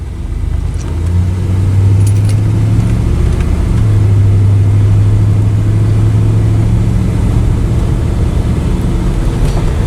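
A 1996 Chevrolet Tahoe with its original transmission, engine humming steadily inside the cabin as it drives, pitch rising and dropping as it moves through the gears, loud and continuous with no talk.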